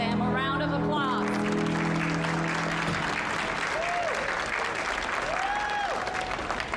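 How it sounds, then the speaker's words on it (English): A studio audience at a televised dance competition bursts into loud, sustained applause, a dense steady clatter of clapping lasting throughout, with a brief voice at the start. "Let's give all of them a round of applause."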